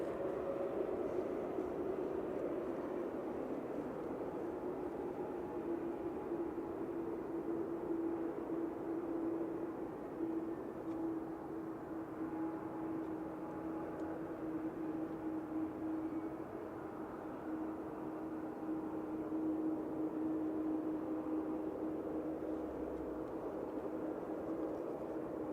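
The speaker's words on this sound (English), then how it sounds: "Ryanair from Lisbon just on short final here" Ryanair Boeing 737 Max 8-200 from Lisbon on short final approach into Manchester Airport, a steady distant jet drone that holds evenly throughout with a faint tonal whine, no voices.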